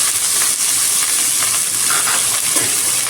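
Sliced onions and garlic sautéing in a pan with curry leaves and salt, a constant bright hiss and sizzle heard up close, with faint scrapes of stirring and no voices.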